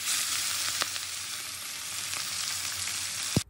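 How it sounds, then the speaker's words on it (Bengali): Rohu fish frying in smoking-hot oil in a kadai wok, a loud steady sizzle close up with a couple of sharp spatters and a final clatter near the end, no voices. "এই গরম তেলে আমি মাছটা ভাজা করে নেব।"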